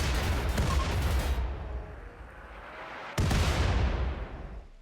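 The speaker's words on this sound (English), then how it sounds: "Let's go ahead and have you guys fire a second volley just because." A gunfire volley in the video game RimWorld, set in a Star Wars Sith Empire scenario: two loud blasts of booming, crackling fire, each rolling into a fading tail, the second arriving after a short lull.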